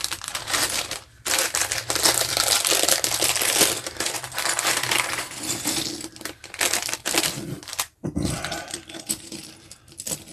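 Crinkling plastic bag of LEGO pieces being opened for a Star Wars 75411 Darth Maul Mech build, with loud, dense rustling and rattling of small parts close up, broken by a couple of brief pauses.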